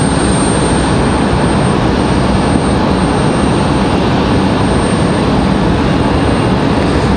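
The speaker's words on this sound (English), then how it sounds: "Here's the Dreamliner." A Boeing 787 Dreamliner closing in on Raleigh-Durham airport fills the air with a loud, dense, steady jet roar that holds constant throughout, without any speech.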